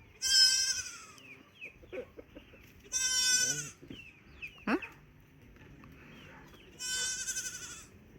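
Goats bleating outdoors, three loud bursts of bleats separated by pauses, with scattered softer animal calls and rustling in between and no clear talk.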